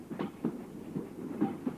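A train running on rails heard from inside a carriage, a low steady rumble with soft repeated clacks of the wheels at an uneven rhythm, moderately quiet and without speech.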